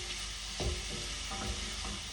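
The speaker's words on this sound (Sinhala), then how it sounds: "අපි තව පොඩ්ඩක් මේ විදිහට බටර් එකේ තැම්බෙන්න තියන්න ඕනේ." Mushrooms and vegetables sizzle in butter in a pan while cooking for a risotto, a steady close frying hiss with a few soft stirring knocks.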